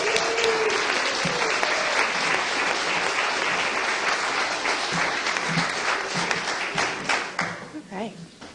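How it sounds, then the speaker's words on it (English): Warm applause from an audience welcoming a storyteller to the stage, a loud dense wash of clapping that carries on for several seconds, then thins and tapers off near the end, with faint voices mixed in. "Let's give her a big round of applause."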